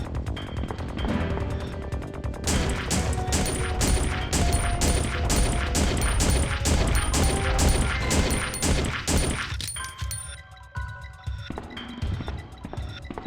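Repeated shotgun blasts in the Resident Evil Survivor video game, firing in a steady rhythm of loud booms for about ten seconds with game noise underneath, then trailing off into quieter effects.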